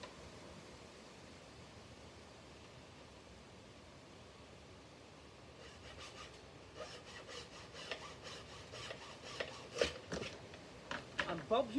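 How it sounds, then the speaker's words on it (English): A mitre saw cuts a 45-degree angle through wooden panel trim for a Japanese tea house, a faint steady background giving way to rhythmic rasping saw strokes that grow louder and quicker toward the end, with some talk nearby. "I'm going to cut again with the mitre at the correct angle"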